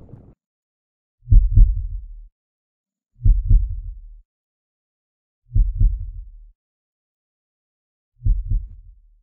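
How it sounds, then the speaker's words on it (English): A deep, booming heartbeat sound effect, four slow double thumps spaced evenly apart, loud and muffled, with silence between beats. "heart pounding in your chest"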